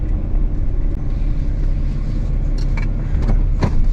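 Truck engine idling and rumbling nearby while backing up toward a trailer on a farm, a steady loud low drone with a few brief clanks near the end.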